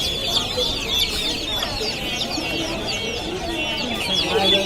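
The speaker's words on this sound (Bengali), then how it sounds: "এখানে আছে কিছু ব্রয়লার মুরগির বাচ্চা" Broiler chicks and other poultry at the Mirpur-1 bird market in Dhaka give a continuous chorus of high peeping and clucking, close and busy, with faint background voices.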